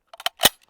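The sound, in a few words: gunshot from a Chinese SKS rifle, 122 grain full metal jacket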